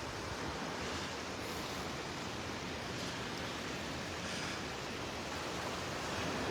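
Ocean surf at Delnor-Wiggins Pass State Park beach in North Naples, a steady broad wash of waves near low tide, continuous and even with faint wind, no voices.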